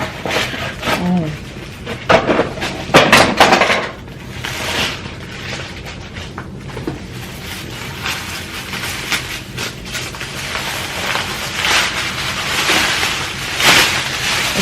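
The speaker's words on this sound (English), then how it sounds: "It's like has paper all through it, so sorry about this noise." Paper packing inside an UPPAbaby G-Luxe stroller rain cover crinkles and rustles close to the mic in irregular bursts as it is handled, with a person talking intermittently.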